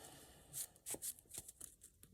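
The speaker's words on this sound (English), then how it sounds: "Give that a little shuffle." A deck of Yu-Gi-Oh trading cards being shuffled by hand, a few quiet, close riffling and tapping bursts in irregular rhythm, faint and alone.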